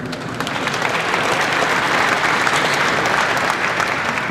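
A crowd applauds Texas A&M player Terry Bussey at a press event: sustained, dense clapping that swells slightly and holds steady, moderately loud with no voices.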